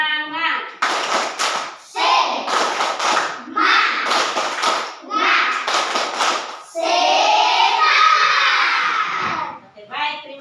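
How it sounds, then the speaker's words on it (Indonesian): A group of students in a classroom lesson claps hands together in rhythmic bursts of patterned clapping with short pauses between them, closing with a longer stretch of clapping mixed with young voices shouting. "Semua tepuk tangan."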